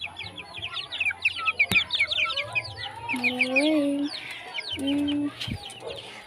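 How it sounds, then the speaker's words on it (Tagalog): Chickens cluck steadily in a backyard flock, with a rooster-like call and clucks rising twice in the middle, over busy higher bird chirping and low background rumble. "let's see na may chicken"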